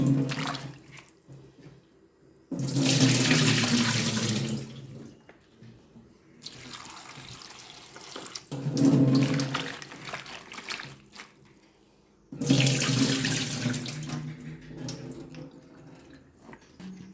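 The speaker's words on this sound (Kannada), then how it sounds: "ಇದನ್ನೀಗ 2 ಬಾರಿ ನೀರಲ್ಲಿ ತೊಳ್ಕೊಳ್ಳುವ. ಈ ನೀರನ್ನು ಚೆಲ್ಕೊಳ್ತಾ ಇದ್ದೇನೆ" Thinly sliced vegetables for fritters being washed in water, with three loud bursts of splashing and pouring separated by quieter stretches of trickling and handling, close by, with no speech.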